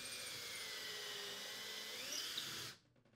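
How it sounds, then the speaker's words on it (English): Power drill boring pilot holes into wood to mount a KitchenAid range vent hood, a steady high whining run of about two and a half seconds that stops abruptly, close and loud with no talk. "Use a 5/32 diameter drill bit to drill the 2 pilot holes when drilling into wood"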